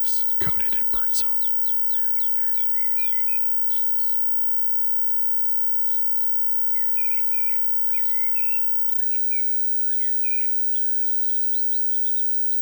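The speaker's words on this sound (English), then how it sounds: "Finally, spring arrives, coated in birdsong." Birdsong in a spring forest, a mix of quiet chirps and short whistled phrases from several birds, faint and somewhat distant, with a few sharp clicks at the start.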